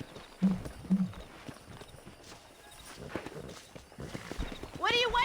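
Wild horses gallop in the video game Red Dead Redemption, with a few heavy hoofbeats early, a scattering of lighter clip-clops, and a shrill whinny near the end, while voices talk over the action.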